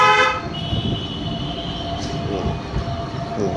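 A car horn sounds in a short, steady blast at the very start while a car is driven on a road during a driving lesson, then engine and road noise carry on.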